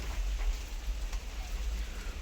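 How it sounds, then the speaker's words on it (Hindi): Rain falling outdoors during loading of a Tata Ace cargo truck, a steady hiss of light drizzle with faint low rumble underneath. "बारिश वेग जर्रा खड़को है यानी कि झड़ी हो लेके है"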